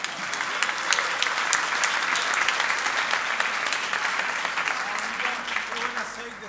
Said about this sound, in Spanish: Le damos un aplauso a Milton.